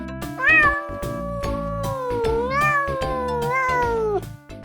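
A cat meows several times in a row, drawn-out tonal cries with rising and falling pitch, loud and close, with no other sounds.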